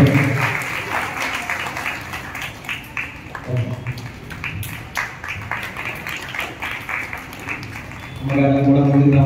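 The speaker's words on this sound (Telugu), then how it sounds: "అందరం కూడా గట్టిగా చప్పట్లతోటి అభినందనలు తెలియజేస్తారు" An audience applauds at a church retirement Mass for a woman teacher, a long stretch of steady clapping with a voice talking over it and music rising near the end.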